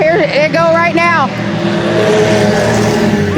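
Eco stock race cars on an oval track pass a lapped car, engines droning loud and close, while a race announcer talks over the opening.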